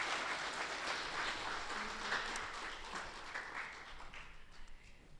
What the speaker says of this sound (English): So just give Juliana another hand of applause.